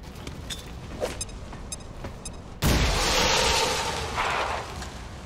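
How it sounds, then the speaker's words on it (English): A frost bomb detonates in XCOM 2, a sudden loud burst that follows a quieter stretch and then spreads into a sustained hissing, icy wash which slowly fades. "And we frost bomb this asshole."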